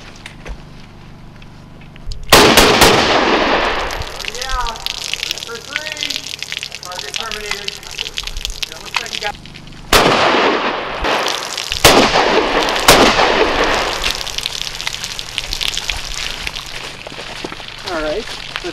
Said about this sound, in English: The three-round burst delivered into each tank was used to demonstrate the coating's performance.